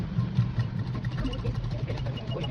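A sewing machine stitches a fabric lining at a shoulder joint, giving a steady, close mechanical whir with a low rhythmic pulse of needle strokes that runs throughout.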